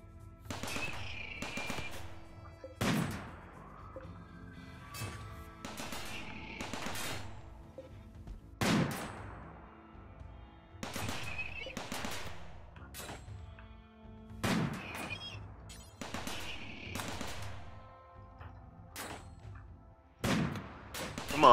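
Gunfire and turret shooting in the video game RimWorld, sharp bursts of shots in irregular clusters with brief pauses between, moderately loud over a quiet background, no talk.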